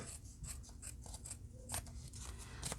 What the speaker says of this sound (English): Or I could just cut it with scissors.